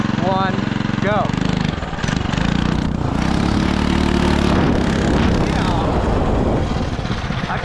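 A 212 FRP minibike's small petrol engine revs hard in a drag race against an electric dirt bike, a loud buzzing drone that rises in pitch twice as it accelerates, close and continuous.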